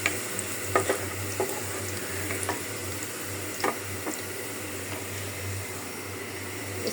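Beef going into a pan of nearly cooked frying onions, with a steady close sizzle broken by a few sharp spoon scrapes and clinks, no voices.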